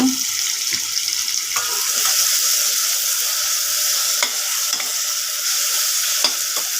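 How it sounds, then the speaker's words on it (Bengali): Onions frying in hot oil, a loud, dense, continuous sizzle up close, broken by occasional clacks of a utensil stirring through the pan, no talking. "পেঁয়াজ দিচ্ছি, এখন একটু নাড়াচাড়া করতেছি।"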